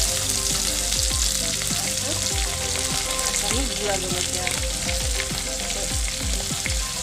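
Onions, ginger-garlic paste and chili powder sizzling steadily in hot oil for Assamese chicken, a continuous close crackle with occasional stirring clinks as someone speaks briefly.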